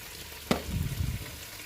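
Meat browns in a pan with a brief sharp clatter followed by a short burst of close sizzling and stirring sounds that fade back to a low background.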